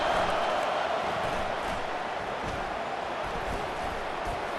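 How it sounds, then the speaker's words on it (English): A stadium crowd roars in the EA Sports College Football 25 video game, producing a continuous, broad wash of crowd noise that stays loud and steady from start to end. "The roar of the crowd trying to fuel this defense to keep them pinned in their own end."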